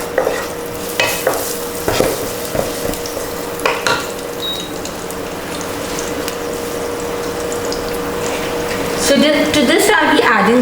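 Chopped garlic stirred in a frying pan, with scraping and clinking of the utensil against the pan over a steady sizzle, close and loud, ending in busier scraping.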